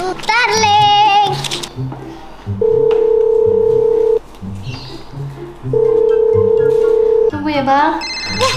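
A telephone rings in bursts of steady electronic tone, two long rings separated by pauses, loud and close in a home setting, with children's chatter and babble around the rings.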